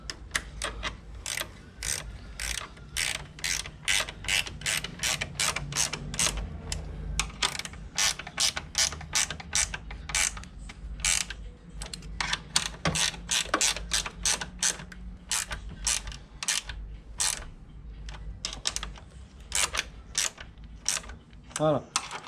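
A 13 mm wrench ratcheting as it tightens a bolt on a Renault Megane 2's steering and suspension, a long run of steady, close, repeated ratchet clicks with no talk over it.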